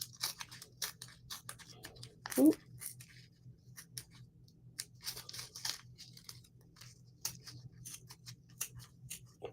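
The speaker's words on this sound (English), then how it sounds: "I'm using the edge of the shell to cut the paper." Paper being sliced along the edge of a shell while making Halloween ornaments: soft, scattered scraping and crunching strokes, close and quiet, with one sharper tear midway.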